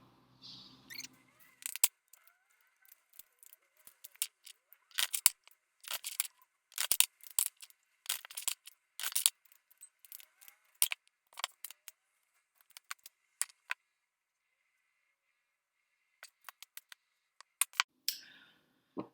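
Crisp, irregular bursts of tarot card shuffling and riffling, close by, with short pauses between flurries and no talking.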